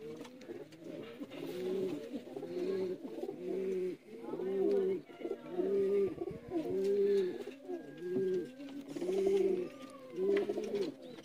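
Sialkoti pigeons coo close by, a steady run of rhythmic, throaty coos that repeat in regular phrases for the whole stretch, with faint background noise behind them.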